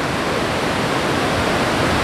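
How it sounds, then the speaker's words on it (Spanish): Waterfall at El Corralito in Oxchuc, Chiapas, roaring as a loud, steady broadband rush that fills the whole stretch without a break, close and constant, no voices. "sí está bastante fuerte el sonido de la cascada"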